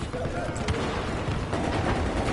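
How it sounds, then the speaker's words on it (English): Battlefield 4 gunfire, a dense stretch of broadband crackle and thumps with faint distant bangs, running steadily with no clear single shots picked out. "Loads of gunfire coming in from where all of us were."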